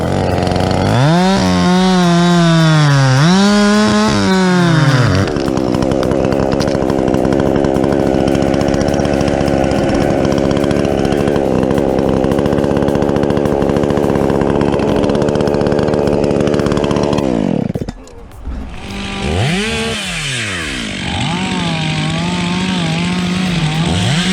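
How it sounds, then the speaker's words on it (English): Chainsaws roar loudly and continuously as they cut trees, engines revving up and down, with a short drop before the snarl picks up again. "The echoing roar of their chainsaws isn't just noise"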